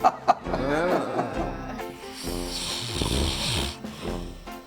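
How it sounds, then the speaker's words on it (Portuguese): Loud, rhythmic snoring with rough, rattling breaths repeating close by, broken by a couple of sharp snorts. "E você já ouviu alguma gravação de você roncando?"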